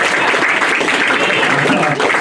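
An audience claps for a roommate during a live stand-up comedy show at Flappers, with dense, steady applause filling the room from start to finish.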